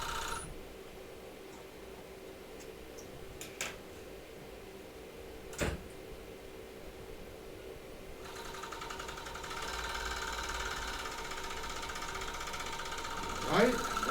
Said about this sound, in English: I'm going to just do a simple serge around the edges to serge these together